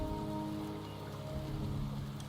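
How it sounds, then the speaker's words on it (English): Rain falls in the video game Wuthering Waves, a steady, even patter and hiss of drops on surfaces that fills the whole moment, with no voices. "The rain is subsiding."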